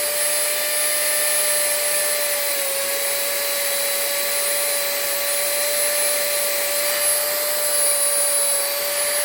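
A soft cotton polishing wheel on a bench motor polishing a Glock striker, giving a loud, steady high whine with strong tonal hum that runs unbroken throughout.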